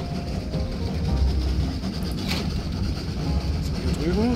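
Trains in the railway puzzle game Train Valley run along their tracks with a low mechanical rumble and rolling wheel noise, steady and moderately loud, with a few brief chimes and game effects over it.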